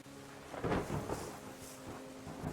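Steady rain hiss with a low rumble of thunder swelling in the middle, continuous and moderately loud, with no talking, in the video game Terra Nil.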